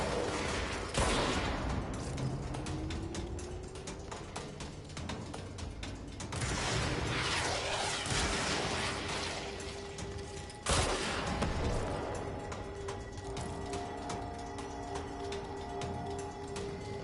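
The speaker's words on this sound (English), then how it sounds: "Stop shooting at me" Enemy gunfire in the video game Control, with bursts of rapid shots and sharp impacts over a constant rumbling game backdrop, fairly loud with a few heavier hits.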